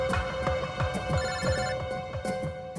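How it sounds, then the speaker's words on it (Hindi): A telephone rings with a rapid trilling bell tone, repeating steadily and loudly for several seconds in an indoor scene, with no talking over it. "एसीपी साहब का फोन।"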